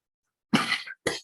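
One close, dry cough followed by a shorter second cough from a man presenting a footpaths session, heard alone in a quiet room.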